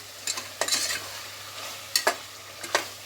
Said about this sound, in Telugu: చూడండి ఎంత మంచి ఫ్రై అవుతుందో చికెన్